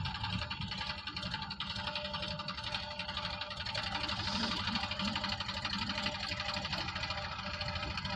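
A tractor engine runs on a village farm, giving a continuous low, rhythmic chugging with a rattling mechanical edge that holds steady throughout at moderate distance.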